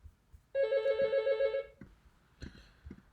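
An electronic telephone ringtone sounds in a quiet room during a Korean macroeconomics lecture, one steady trilling burst of about a second, then brief faint knocks and shuffling afterward.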